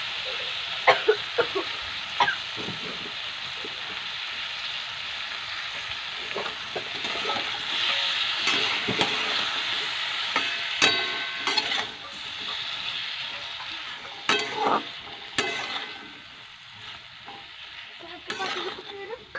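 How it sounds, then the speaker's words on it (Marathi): Capsicum and potato sizzle and get stirred in a hot pan, steady frying broken by sharp spatula scrapes and clinks, close and fairly loud throughout. "हे पण आपल्याला एकसारखं परतून घ्यायचंय"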